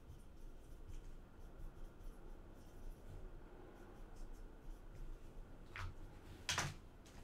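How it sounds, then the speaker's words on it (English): A pen scratches steadily across paper as a name is written by hand, a faint continuous scribble close by, ending with a couple of sharper strokes. "Let me just write your name here."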